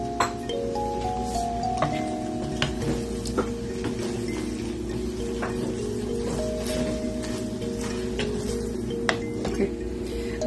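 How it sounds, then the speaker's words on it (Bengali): Beaten egg is stirred and mixed into meatball and mixed vegetable noodles in a pan, giving repeated scraping and clinking of a utensil against the pan over a low sizzle, steady and close. "এবার ভালোমতো ডিমটাকে মেরে নিব।"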